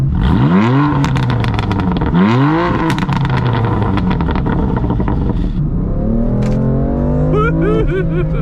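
A BMW M4 Competition engine revs hard several times, loud, rising and falling in pitch, with sharp pops and crackles between revs before settling into a steadier growl.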